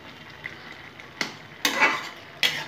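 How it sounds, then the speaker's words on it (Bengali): Pineapple chutney stirred in a pan after ground roasted spices go in, heard as a few separate scraping clinks over a faint sizzle. "এটা নাড়িয়ে নেব।"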